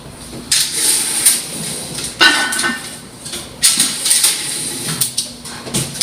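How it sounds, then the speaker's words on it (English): Metal clanks and clatters as a lid is set onto a pot of pot roast in a home kitchen, several bright knocks and scrapes spread over a few seconds, close and fairly loud. "let me put the lid on that"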